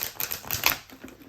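Tarot cards being shuffled by hand for a reading, a quick run of crisp, papery riffling clicks in close succession, fairly near and steady, with no voices over the sound.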